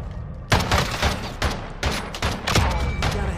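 Gunfire in Call of Duty Modern Warfare 2 during a 2v2 alpha match: sharp, loud shots fire in quick irregular bursts, several cracks close together, over steady background game noise.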